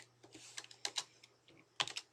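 Rapid, irregular clicks of computer keyboard keys as code is typed, close and fairly quiet, coming in short bursts with small pauses over a steady low hum.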